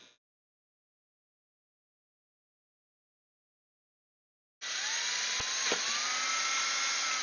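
A handheld power drill bores a hole after a long silence, starting abruptly and running steadily near and loud for about three seconds, its whine shifting slightly in pitch as the bit bites.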